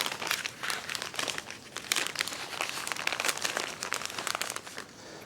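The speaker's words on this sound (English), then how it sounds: "I have never wrapped a sandwich in parchment before." Sandwich being wrapped in parchment paper for a garden picnic, a steady run of crisp crinkling and rustling close by, loud and continuous for several seconds with no talking.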